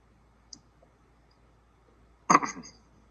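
A faint small click sounds early, then a single sharper, louder computer mouse click lands near the end, set against a quiet background.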